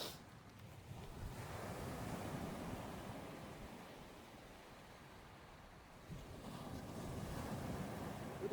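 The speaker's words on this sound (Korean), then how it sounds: "파도가 너무 많이 치네요" Rolling ocean surf roars steadily at a beach in Pohang, South Korea, with heavy wind buffeting the microphone, the waves swelling and easing in long surges, no voices heard.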